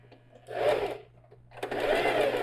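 A sewing machine backstitches a backpack panel in two short bursts of rapid stitching, separated by a brief pause, heard up close.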